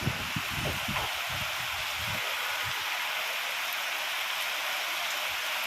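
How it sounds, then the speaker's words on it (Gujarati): Steady rain falling in Jetpur, a dense hiss of drops with a few heavier patters early on, no voices. "ધીમે ધીમે વરસાદ ચાલુ થયો છે."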